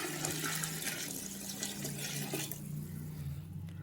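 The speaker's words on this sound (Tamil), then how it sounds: "சாம்பார் சாதத்துக்கு தேவையான தண்ணி ஊற்றிடலாம்" Water is poured into a cooking pot for sambar rice, a close, continuous splashing rush that lasts the whole few seconds and eases a little toward the end, with no talking.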